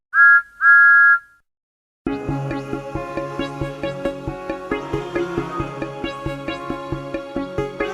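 A steam engine whistle from a Thomas the Tank Engine railway story gives two short, bright toots, followed by a pause and then lively rhythmic music.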